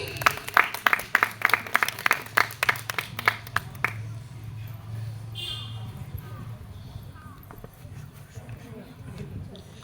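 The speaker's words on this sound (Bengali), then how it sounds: "আমরা একটু করতালি দেই" An audience at an annual cultural group gathering claps for a child about to recite a poem, a lively burst of applause for roughly four seconds that fades into background murmur and talk.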